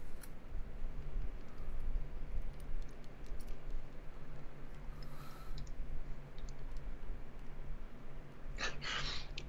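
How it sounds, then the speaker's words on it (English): A stabilized keyboard spacebar struck hard, giving quiet, scattered clicks and taps over a low steady hum, with a brighter burst of clatter near the end. "this is me like hitting the spacebar like way harder than I would during typing"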